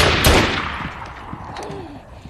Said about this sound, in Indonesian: melepaskan tembakan ke udara dan memperingatkan agar mereka berhenti